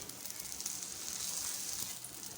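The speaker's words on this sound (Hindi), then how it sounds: "अब इस तरफ थोड़ा सा ऑयल डालेंगे और फिर इसको इसकी साइड चेंज" Potato bread fries in oil over a low flame, giving a steady, soft sizzle and hiss that holds evenly throughout with no voices.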